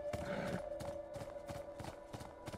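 Horse hooves clip-clopping at a steady trot in Beyond: Two Souls, several evenly spaced hoof hits over a steady tonal hum, fairly quiet and close.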